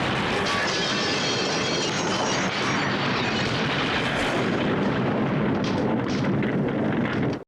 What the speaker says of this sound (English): So the house explodes